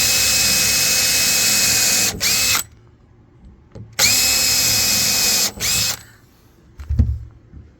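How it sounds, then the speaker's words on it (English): A power drill drilling pilot holes into wood whirs loudly in two long bursts, each stopping abruptly with a brief pause between, followed by a faint knock. "Then you just pick a drill bit that's slightly smaller than the screw."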